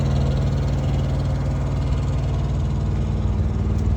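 A truck's Cummins diesel engine idles steadily, a deep, continuous rumble with an even low throb, close and loud, with no talking.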